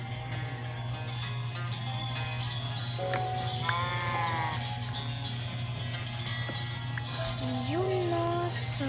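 Sheep bleat several times over a steady low hum, with a clear wavering call near the end; the animals sound fairly close.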